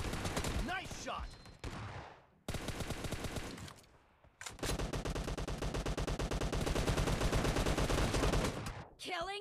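Rapid automatic gunfire from the PUBG video game rattles in long sustained bursts, with short pauses between volleys, loud and close, while a voice briefly comments over the opening.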